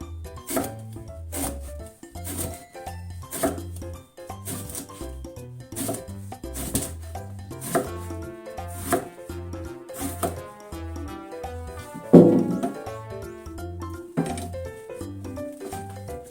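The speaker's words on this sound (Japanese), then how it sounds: "斜め切りしていきます" A knife slices eggplant diagonally on a cutting board, producing a steady run of rhythmic cutting taps, close and clear, with no one talking.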